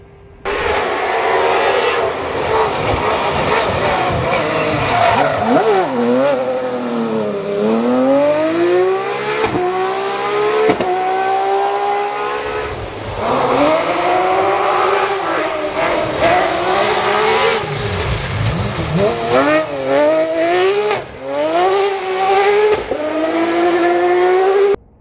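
Andy Burton's homemade Peugeot Cosworth rally car screams through repeated revving and gear changes, its engine pitch rising and falling sharply again and again, loud and close with no talk.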